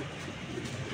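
A male racing pigeon coos softly and steadily, a low, throaty murmur running through the whole brief moment with no other sounds over it.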